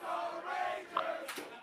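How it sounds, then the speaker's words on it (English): A lively Wednesday-night crowd fills the American Whiskey bar, a brief burst of loud voices cheering and shouting together, close and dense. "we got a lively crowd on a Wednesday night there at American Whiskey"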